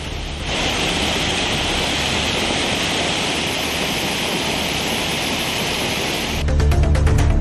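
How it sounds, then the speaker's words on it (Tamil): Floodwater on the Palar river after heavy rain rushes bank to bank in a steady, dense roar that stays even for several seconds and grows heavier near the end, with no voices. "பாலாற்றில் இரு கரைகளையும் தொட்டுக்கொண்டு வெள்ளம் பெருக்கெடுத்து ஓடுகிறது"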